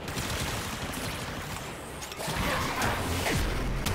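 Gunfire from the player in Warframe aimed at the boss Mutalist Alad V comes as fast bursts of sharp shots with whooshes and impacts, a busy, moderately quiet game mix without speech.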